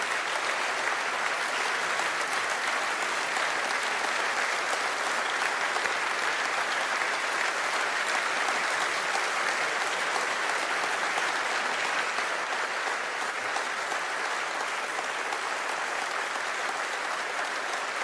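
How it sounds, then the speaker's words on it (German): An audience at a public talk with Angela Merkel breaks into loud, sustained applause, a dense wall of clapping that continues evenly for the full length with no gaps. "Leute, freuen Sie sich über diesen Applaus?"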